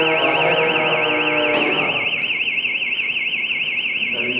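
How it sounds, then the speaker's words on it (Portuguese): A car alarm from an SMS-controlled vehicle security system blares with a rapid warbling siren tone, loud and continuous, steady throughout with no talking. "Desativar a alarme"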